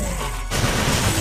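Gunfire in the video game TimeSplitters, with a sudden loud burst of shots that keeps going as a dense crackling barrage.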